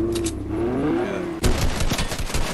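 Rapid bursts of gunfire from the Fortnite video game crackle loudly over a background game tone, starting abruptly midway and continuing as dense, overlapping shots.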